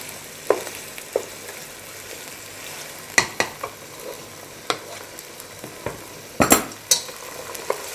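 Chicken karahi fries in a pan with a soft steady sizzle, broken by sharp scraping clacks of a spatula stirring at irregular intervals, close and without voices.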